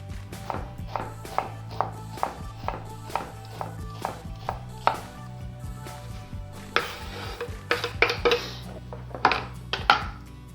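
Two medium onions diced with a knife on a board, a run of sharp, evenly spaced chops up close, then quicker clustered cuts and a few scraping knocks near the end.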